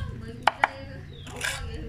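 A knife chops fishing bait finely on a board, with a few sharp, close knocks at uneven intervals and a soft scraping rush between them.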